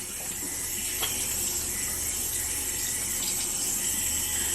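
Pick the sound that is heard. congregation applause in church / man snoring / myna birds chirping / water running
water running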